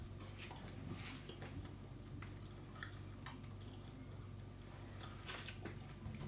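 Homemade Greek style pitta bread is bitten and chewed close up, with soft irregular crunches and moist chewing noises over a low steady background hum.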